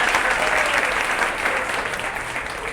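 A dense, steady wash of audience applause at a gathering, loud and continuous throughout without a break and fading only slightly toward the end.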